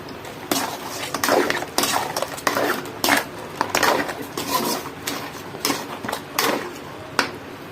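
Crab masala being stirred in a metal pot, a utensil scraping and clinking against the sides in a steady run of close strokes.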